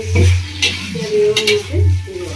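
Potatoes with spices being stirred in a pan for a Bengali echor chingri dish, a few scraping spoon strokes and soft sizzle with a steady low hum underneath.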